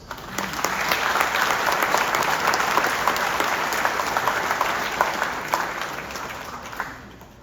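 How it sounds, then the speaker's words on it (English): Sustained audience applause at a university commencement ceremony for parents and guardians, a dense, even wash of many hands clapping for about seven seconds before tapering off. "let us give all the parents and guardians, especially the dads, a big round of applause"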